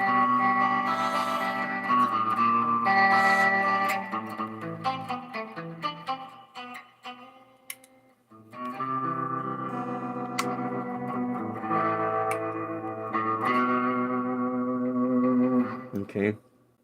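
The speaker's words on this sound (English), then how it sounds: "it sounds like a little bit of a tremolo" Electric guitar run through an effects pedal straight out of the box, giving a wavering tremolo-like tone as chords and notes ring steadily for about sixteen seconds, with a brief dip in the middle.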